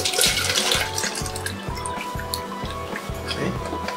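Photo-developing chemical is poured away into a sink, splashing and trickling in uneven bursts with close drips for several seconds, no voices.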